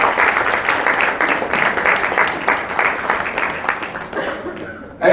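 Applause rises from a seminar audience in Mumbai, a sustained dense patter of clapping that fades toward the end, with a voice briefly breaking through near the close.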